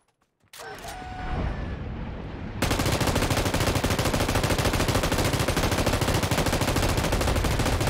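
Continuous rapid gunfire from a monster-chicken video game, a dense loud burst of automatic shots that starts after a short quiet lead-in and keeps pounding steadily to the end, with no talking.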